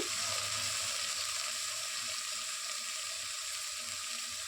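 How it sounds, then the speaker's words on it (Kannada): Sliced bitter gourd sizzling steadily as it sautés in a hot spice tempering for sambar, a continuous close frying hiss with no talking. "ಈಗ ಒಗ್ಗರಣೆಯಲ್ಲಿ ಸ್ವಲ್ಪ ಚೆನ್ನಾಗಿ ಬಾಡಿಸ್ಕೋಬೇಕು ಹಾಗಲಕಾಯನ್ನು"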